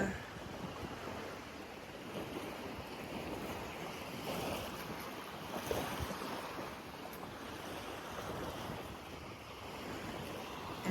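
Strong wind buffeting the microphone on a lakeshore at Pruden's Point in Saskatchewan, a steady rushing roar with lapping water beneath and no clear speech.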